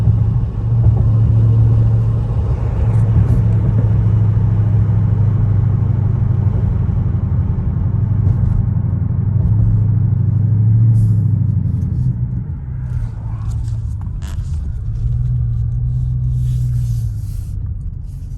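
A Mopar SRT car idles in park, its engine giving a steady, loud low rumble throughout with slight fluctuations near the end.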